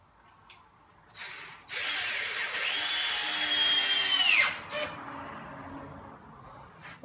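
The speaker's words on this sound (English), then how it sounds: "Going to center this up between the legs. And we'll just screw them down." Power drill driving screws through a panel into sawhorse legs: a close, steady whirring run of a few seconds that rises in pitch and then stops abruptly, with short quieter bursts before and after.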